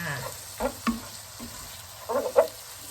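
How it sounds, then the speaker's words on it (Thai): Stir-fried glass noodles with bacon and dark soy sauce are stirred in a hot pan, giving a steady close sizzle broken by several soft scraping and clattering strokes of the utensil. "แล้วก็คนเข้ากันเลยค่ะ"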